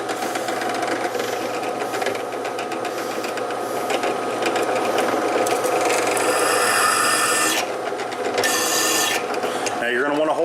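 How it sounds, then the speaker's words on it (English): A drill bores through a steel knife blade during knifemaking, giving a loud, steady grinding whine that runs nearly unbroken for about ten seconds and shifts tone briefly near the end. "we're just going to go ahead and drill and hope for the best."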